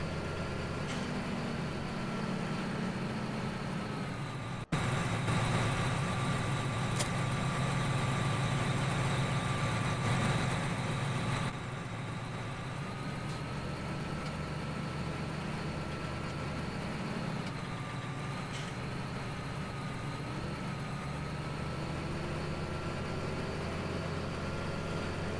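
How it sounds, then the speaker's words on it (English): In Farming Simulator 17, a tractor engine pulling a manure spreader drones at a steady low idle-like hum, with a brief click and a small shift in tone partway through but otherwise continuous. "Hopefully this tractor can handle this manure spreader."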